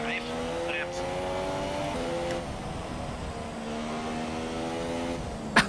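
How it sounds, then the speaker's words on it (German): A Renault F1 car engine idles in F1 2017, a steady high-pitched whine with layered harmonics holding evenly, and a sharp click near the end. "Der Motor läuft."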